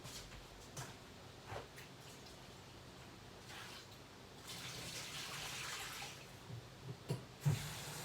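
About two cups of water poured into a soup pot, a quiet trickling and splashing that swells midway, with a few small knocks near the end.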